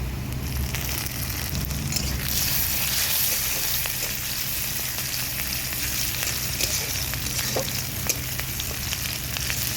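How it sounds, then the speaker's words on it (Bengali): Chopped green chillies and onions sizzle steadily in hot oil, a close crackling hiss with scattered pops and a few stirring scrapes. "এর মধ্যে দিয়ে দেবো কেটে রাখা কাঁচা লঙ্কা।"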